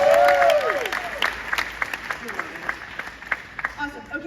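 Applause from an audience at a senior legacy award ceremony, steady clapping that thins into scattered claps and a few cheers, with a voice speaking over it near the start.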